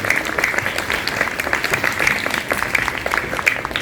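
A school audience at Purusharth Vidhyaniketan gives a speaker a round of thanks with dense, steady applause of many hands clapping at once. The clapping stays loud and even from start to finish.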